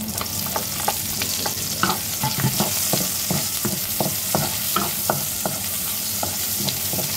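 Garlic cloves sauté in hot oil in a pan for stir-fry chicken adobo, giving a dense, even sizzle with regular spatula scrapes and taps, loud and close throughout.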